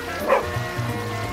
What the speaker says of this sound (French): le chien se mit à aboyer